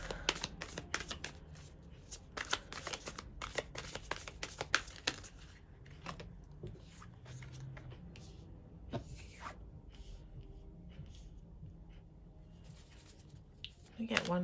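Tarot cards shuffled and drawn by hand, a quick run of crisp riffling flicks up front, then softer scattered card slides and taps, close and quiet with no talk.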